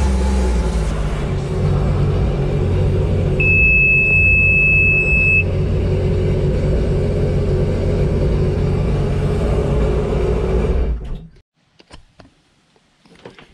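A 2019 Sea-Doo FishPro jet ski with an EGTS fault runs with a steady, loud low rumble and a sustained beep partway through, then shuts off abruptly, leaving faint clicks.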